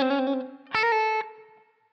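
An electric guitar plays a short, isolated blues lick, with a few quick notes and then a sustained bent note that rings out and fades, heard alone.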